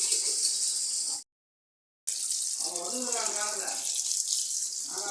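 Running tap water streams steadily as squid and fish are washed at a kitchen sink, a brief gap of silence breaking the flow partway, with splashing and handling in the water afterward.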